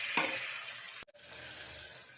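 Ginger hitting hot oil in a cooker sizzles brightly at the start, a short scrape follows, then a steady frying hiss continues without talk.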